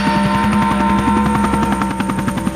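Helicopter rotors pound in a fast, steady beat over the Waco siege compound, loud and close, continuing without a break and with no voices over them.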